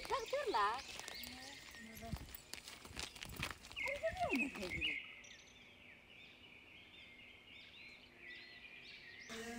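Horses at a tribal village market in Palakajeedi, with hoof clip-clops and a whinny mixed into busy crowd chatter, then the scene fades to quieter background ambience.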